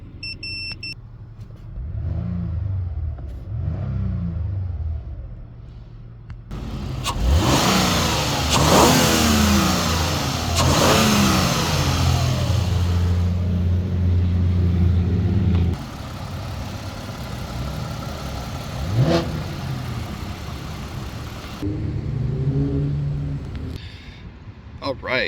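A 2008 Lexus ES350 engine idling and then revving repeatedly, with several rising and falling surges over a steady rumble. The running engine is close and loud, and a voice talks at times.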